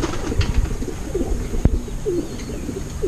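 Racing pigeons coo softly in a loft during derby training, a few low rolling coos repeating over steady outdoor background noise, with one sharp tap midway.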